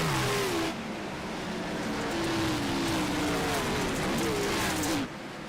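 Race cars on the Bristol dirt track in a sim-racing league race, engines roaring loudly together as the pack restarts on the green flag, pitch rising and wavering with throttle, the sound cutting down sharply near the end.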